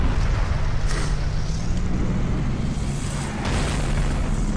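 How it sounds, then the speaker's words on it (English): In the World of Tanks video game, an artillery shell explodes near a tank: a deep boom within a loud, continuous rumbling roar of engine and battle noise, with no talking. "I just almost got hit by artillery, but made it."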